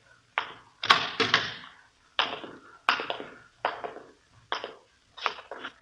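A door being opened in a Dragnet radio drama, heard as a close series of sharp wooden clunks and latch rattles that come in irregular bursts with brief silences between them.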